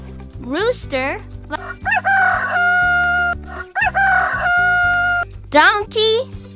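A rooster crows twice, each a loud cock-a-doodle-doo ending in a held note, over bouncy background music, with brief high vocal flourishes before and after.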